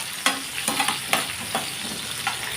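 Onions sautéing in a pan for sambar, a close, steady frying sizzle punctuated by repeated spatula strokes against the pan.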